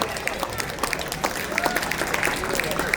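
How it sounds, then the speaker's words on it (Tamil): An audience claps steadily for students at a Tamil school's annual prize-giving ceremony in Dayton, USA, the scattered applause running throughout beneath an announcer's voice. "கைத்தட்டி மாணவர்களை ஊக்குவிக்கவும்"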